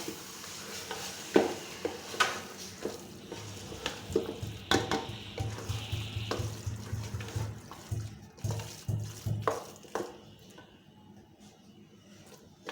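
Half a kilo of yogurt mixed and cooked in a pan for a moringa dish, a run of wet, squelching stirring strokes and scrapes that comes fast and close, then thins out toward the end.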